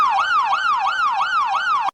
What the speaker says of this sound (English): Somewhere in the chaos, Fitch heard sirens.